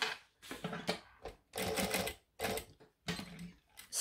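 A sewing machine stitches down a bag seam with a drop-in lining in short close bursts, each a few tenths of a second long, separated by brief pauses.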